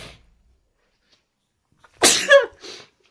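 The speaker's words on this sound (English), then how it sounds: "oh, I'm gonna sneeze." One person gives a single sharp sneeze in two quick bursts after near silence, close and loud, then a short gasp trails off.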